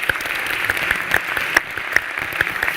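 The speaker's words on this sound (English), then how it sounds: "Please, big applause for our panelists." An audience applauds panelists at the close of a scientific anniversary event in Spain, a steady dense round of clapping with a few sharper individual claps standing out, no talk over it.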